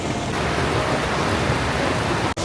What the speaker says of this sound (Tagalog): Talagang lakas ng ano, lakas ng ulan ngayon. Umuulan na naman.